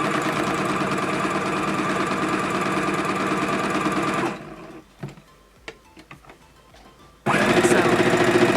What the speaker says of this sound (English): we're going to start with a back tack stitch